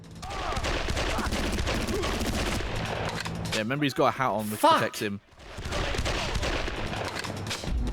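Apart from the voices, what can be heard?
gunfire in a video game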